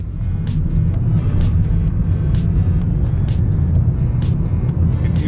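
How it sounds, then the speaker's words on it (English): Hydrogen fuel cell Honda Clarity accelerating hard from 0 to 60, heard as a loud, steady low rumble of road and motor noise inside the car with a whirring fan and repeated ticking clicks, no talking. "Here we go, 0 to 60 in the Clarity that's powered by hydrogen"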